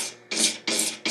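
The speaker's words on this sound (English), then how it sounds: "Scrape the majority off so I don't have as much sanding to do." A razor blade scrapes cured epoxy off a guitar peg head in three firm, bright strokes, each a short rasping burst separated by brief pauses, close and clear with no talk.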